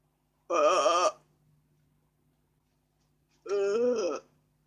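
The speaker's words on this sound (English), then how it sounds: "Eating too much, going burp." Two separate, drawn-out burps, close and fairly loud, with a few seconds of near silence between them.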